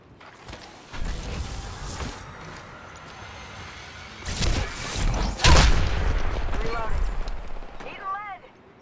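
Video game gunfire cracks out in scattered loud bursts over mechanical clatter and background noise, with a couple of heavier volleys midway and a voice heard near the end.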